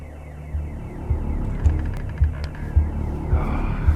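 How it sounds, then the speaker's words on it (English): Alarm in the video game The Occupation, a repeating low pulsing throb that pounds roughly every half second, loud and steady with no talk over it. "This alarm could have been easily avoided if we'd paid attention to our surroundings."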